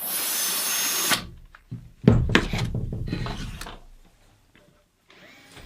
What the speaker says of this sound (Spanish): con mi broca autocentrante puedo perforar directamente y obtener esa posición justo donde debe estar